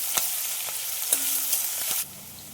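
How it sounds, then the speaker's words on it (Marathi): Green chillies and cashew slices sauté in oil in a pan, with a steady hiss and a few utensil taps close by, until the sizzle drops away abruptly near the end. "आता याला आपण छान 2 मिनिट परतून घेऊया."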